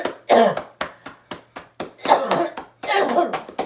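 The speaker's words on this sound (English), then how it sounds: "I wait till I can get a deep breath in before I cough out really hard so I get some phlegm up" Hard, deep coughs bringing up phlegm, loud and close, come in a run of repeated forceful bursts with short gasping pauses, some grouped in rough, rattling fits.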